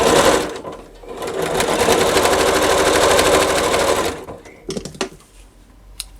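A sewing machine stitches a quilt block row for the Sunny Day quilt in one fast, steady, close run of about four seconds, followed by brief handling clicks and rustles.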